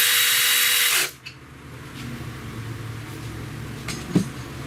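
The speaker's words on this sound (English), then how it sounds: "this 1/4-inch drive, a lot of times I find it does almost an adequate job of tightening the bolt up" A 1/4-inch drive power tool whirs loudly for about a second tightening a bolt on a Pontiac G6 2.4L alternator, then stops, followed by quiet background hum and a few faint metallic clinks.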